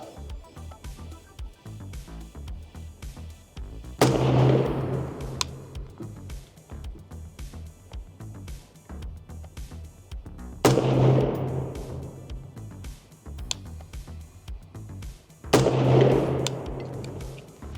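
Three pistol shots ring out at a shooting range at 7 yards, each a loud sharp crack with a short echoing tail, spaced several seconds apart against a quiet outdoor background.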